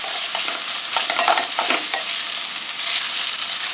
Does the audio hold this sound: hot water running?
no